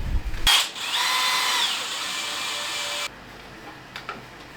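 A power drill drives screws into 3D printed pump kart parts, giving a short whir, then a steady whining run of about two seconds that cuts off, with faint clicks after.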